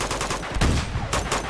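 Heavy gunfire from a firefight in the video game Uncharted 2: Among Thieves Remastered, with rapid bursts and broadband cracks running throughout and louder blasts near the middle and end.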